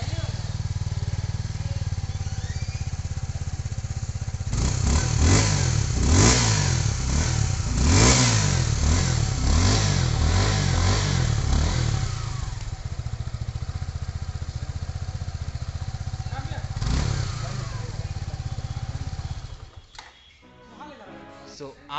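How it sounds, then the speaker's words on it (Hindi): A 2024 Suzuki Gixxer SF 250 motorcycle idles with a steady exhaust note, then revs in a run of rising and falling throttle blips, settles back, gives one more short rev and goes quiet near the end. "एक बार ना मैं आपको इसकी एग्जॉस्ट नोट भी सुना देता हूँ"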